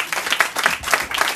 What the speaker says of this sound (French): applaudissez-le encore une fois.